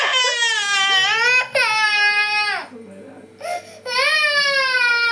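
A baby girl cries in loud, wailing bursts with short breaks between them, close up, with brief background movement in the pauses.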